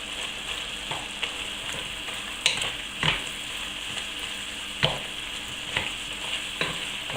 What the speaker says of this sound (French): On met et on tourne de façon à ce que la viande s'enrobe bien de la farine.